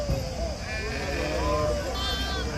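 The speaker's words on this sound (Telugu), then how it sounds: "నెల రోజుల పిల్ల కాడి నుంచి గొర్రెలు అయితే కనిపిస్తూ ఉన్నాయి మనకి ఇక్కడ" Sheep and lambs bleat repeatedly at a busy sheep market in Gudur, several animals calling over one another close by, with people talking steadily in the background.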